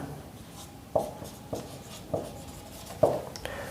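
Chalk or pen writing out a class 10 geometry proof on similar triangles, heard as a handful of separate sharp taps and short strokes at an uneven pace, close and moderately loud.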